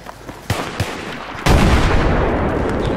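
Loud gunfire in Battlefield 3: a few separate shots early on, then a sudden heavy, sustained burst of rolling, dense fire that carries on to the end.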